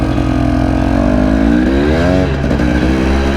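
A 2021 Husqvarna TE 300i two-stroke dirt bike ridden in first gear with a 52-tooth rear sprocket: a loud, close engine drone that rises and falls in pitch as the throttle is worked, continuous throughout.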